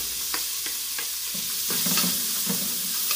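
A large chopped onion frying in a pan with bacon, a soft continuous sizzle punctuated by several light stirring scrapes nearby, with no voices.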